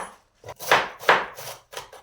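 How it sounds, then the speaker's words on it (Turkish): A knife chops kale (Turkish black cabbage) finely, in a run of sharp, close strokes with brief pauses. The chopping comes alone, with no talk over it. "İncecik kıyacağız bunu arkadaşlar."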